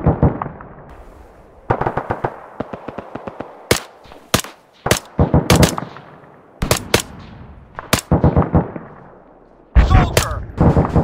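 Arma 3 gunfire crackles in irregular bursts of sharp, loud shots, some near and some more distant, with brief pauses between volleys and no talking.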